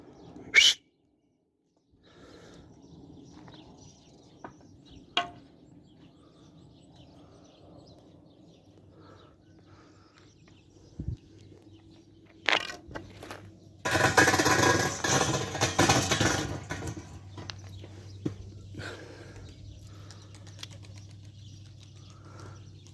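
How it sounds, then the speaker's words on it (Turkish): Domestic pigeons flown all at once from a rooftop loft, their wings clattering in a loud, dense burst of flapping after a quieter stretch with a few scattered knocks and distant noises. "Arkadaşlar şu anda uçurduğum kuşlar hepsi teke düşmüş kuşlar."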